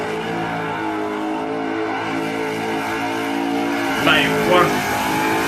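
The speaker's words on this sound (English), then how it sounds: "Now let's see a real burnout." A car doing a burnout with its engine revving hard, a loud sustained roar with a couple of sharper surges near the end, while a man reacts briefly over it.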